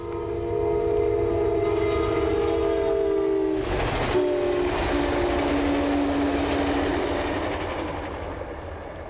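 A loud, sustained Amtrak train horn blares with a brief break, while the train rumbles past nearby.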